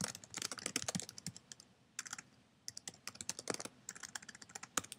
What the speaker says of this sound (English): My computer keys are so loud.